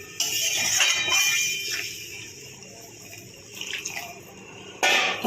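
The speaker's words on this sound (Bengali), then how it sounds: "এখন দিয়ে দেবো গরম জল।" Hot water pours into spiced tomato gravy in a pan, a steady splashing stream that fades to a gentle simmer, with a sharper burst of pouring near the end; no talking.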